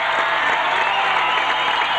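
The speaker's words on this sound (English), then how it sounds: "the crowd giving Peter Ally a tremendous ovation" Basketball crowd at a 36ers game applauding and cheering as a young player comes onto the court, a dense, steady roar of clapping and voices that stays loud throughout.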